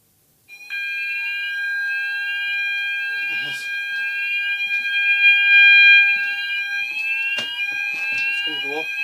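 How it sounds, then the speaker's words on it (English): A smoke detector in a home shrieks continuously during an alarm test after being sprayed, its piercing electronic tone steady and loud up close, with brief clicks and a voice occasionally speaking underneath. "I'm just going to spray that smoke detector with my thing. I'll do, yes, it's going to go off."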